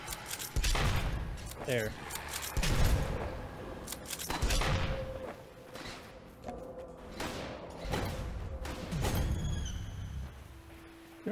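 Gunfire in the video game Drake Hollow, with repeated bursts of shots and heavy thuds coming in clusters across the stretch, mixed with game effects and a brief spoken word.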